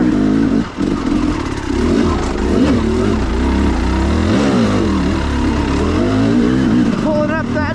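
A carbureted KTM 300XC-W two-stroke dirt bike, fitted with an RK Tek head, rides in second gear with its engine lugging low and loud. The drone is continuous and close, wavering in pitch as the throttle changes.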